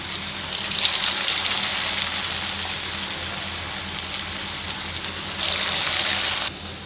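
Bread and potato kebabs fry in oil over a medium flame, giving a dense, rain-like sizzle that swells twice and then cuts off near the end.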